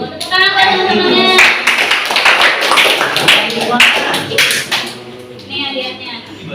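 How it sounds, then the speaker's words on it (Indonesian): Schoolchildren in an Indonesian classroom clapping for classmates during a teaching practice lesson, quick rhythmic claps mixed with voices speaking over them, fading out toward the end. "Tepuk tangan buat teman-temannya."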